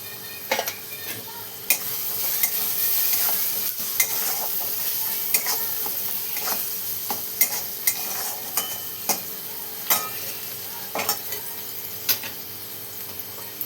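Onion masala, homemade spice masala and turmeric are stirred in a sizzling pan, with a low steady fry under repeated sharp ticks and scrapes of a spoon against the pan, close and without speech.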